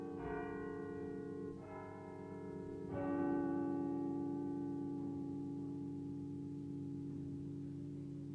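Bells of St Anne's Church, Shandon, Cork, Ireland, ring out in a few slow, resonant strikes, each tone sustaining and overlapping under a low steady hum, moderately distant.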